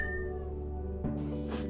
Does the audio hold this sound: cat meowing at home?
yes